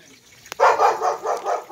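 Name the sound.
dog barking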